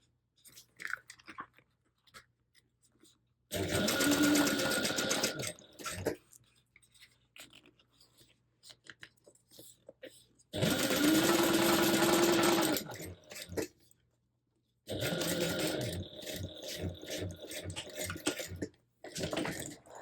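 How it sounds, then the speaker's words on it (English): A sewing machine top stitches a beachcomber pouch in three whirring runs of a couple of seconds each, separated by quiet pauses filled with soft handling noises. "We're going to top stitch it 1/8 of an inch away."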